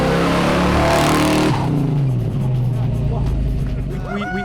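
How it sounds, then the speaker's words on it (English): A Nissan GT-R engine revs hard at first, then settles into a deep, throaty rumble, loud and close. "the car sounds amazing"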